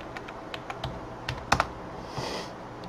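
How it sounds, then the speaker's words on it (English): Quick taps on a computer keyboard while entering commands in Visual Studio, a sparse run of light clicks with a couple of sharper keystrokes near the middle, close and clear with no talking. "If I can learn how to type."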